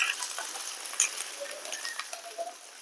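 An egg chapathi, a chapathi laid over an omelette with a little oil, fries in a pan, giving a soft, steady sizzle with faint crackles and light pops, heard close with no talking.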